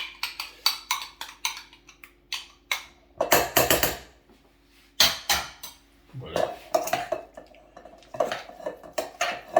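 A whelk tartare being mixed with aioli in a bowl, with rapid bursts of loud utensil clinks and scraping against the dish, separated by brief pauses.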